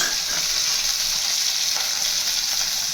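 Tomato dropped into hot oil with curry leaves while making vegetarian sambar dal, giving a loud, continuous hiss of sizzling frying with no pauses.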